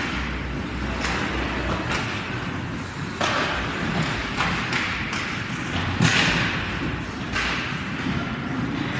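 During a 14U-AA youth ice hockey game, the puck is knocked around the rink in a series of sharp thuds and taps against sticks and boards, irregular and mid-distance over a steady arena hum.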